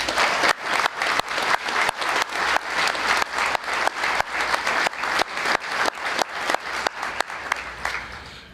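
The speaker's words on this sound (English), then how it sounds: "join me one more time for a round of applause for all of our inductees tonight" Rhythmic unison clapping from an audience at a Louisiana high school sports hall of fame induction ceremony, loud steady beats repeating roughly three times per second throughout.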